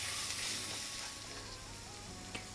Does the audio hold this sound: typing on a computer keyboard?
no